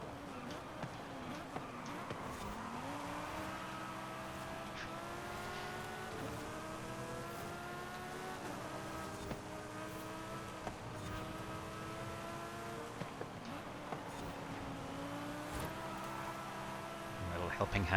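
Race car engine in Forza Horizon 5, a steady droning whine that repeatedly climbs in pitch through the gears, continuous and fairly loud throughout.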